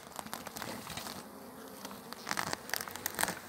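Honey bees hum softly around an opened hive while the keeper inspects a weak colony. Faint crinkling and handling noises sit over the low, steady buzz.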